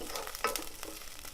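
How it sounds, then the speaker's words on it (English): Chopped onion frying in a pan, a soft, steady sizzle heard up close with a couple of brief stirring scrapes. "We will cook the onion for about 3 minutes"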